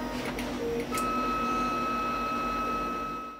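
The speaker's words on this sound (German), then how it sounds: "Das Gepiepe und Gefiepe ist leider so, da das Modell schon ein paar Jahre älter ist und keine lautlosen Motortreiber verbaut sind." A Weedo Tina2 budget 3D printer, an older model without silent stepper drivers, running with a steady whining hum and sustained high-pitched tones from its motors, fairly loud and close, with no talking.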